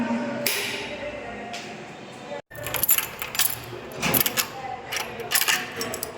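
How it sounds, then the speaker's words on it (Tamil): A house door is locked and the keys are taken, with sharp metallic clicks and jangles coming in bursts close by, mixed with talk. "வீடு லாக் போட்டு சாவி எடுத்தாச்சு."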